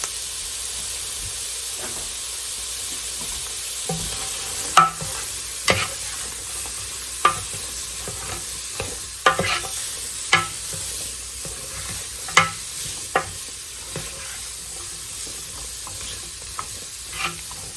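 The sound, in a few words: onions and carrots sautéing in a pan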